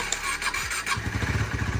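A KTM Duke motorcycle with an unreliable battery cranks briefly, then its engine catches and settles into a rapid, throbbing idle, loud and close, with no talking.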